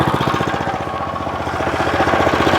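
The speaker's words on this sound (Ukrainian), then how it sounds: "закриваю заслонку і, і з першого разу запускаю" A Weima WM90 walk-behind tractor engine runs loud and close with a rapid, steady chugging pulse and no change in pace, with no talking over it.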